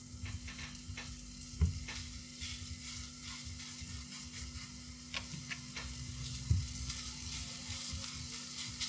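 German meat patties sizzle steadily as they fry in a pan after being pressed flat, with a continuous crackling hiss and a couple of sharper pops or spatula taps standing out against it.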